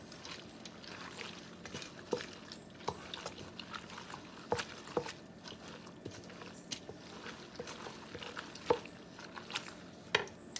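Macaroni and cheese gets stirred together in a bowl, giving soft repeated scraping and squelching strokes at an uneven rhythm, close and fairly quiet.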